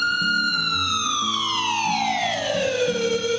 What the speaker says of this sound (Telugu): ఇలా గీతని స్ట్రెచర్ మీద పడుకోబెట్టి అంబులెన్స్ లోకి ఎక్కిస్తూ ఉంటారు.